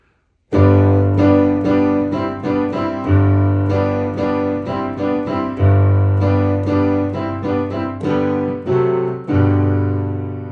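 Piano chords played in a steady sequence, each struck cleanly and left to ring before the next, alone and fairly loud.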